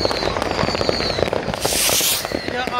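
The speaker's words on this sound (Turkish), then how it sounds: "Muhteşem havai fişek gösterileri şu anda" A fireworks display bursts in a dense, continuous barrage of crackling pops and booms, with a broad hissing swell partway through, loud and close, with no talking.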